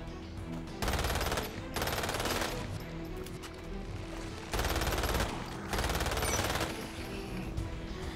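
Automatic weapon fire from the video game Umbrella Corps, loud sustained bursts in four long volleys separated by brief pauses, with lower game background sound between them.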